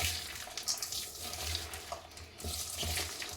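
Bitter gourd being rubbed with coarse salt and washed in water, giving close, continuous splashing and wet rubbing with irregular swells and small knocks, no talking.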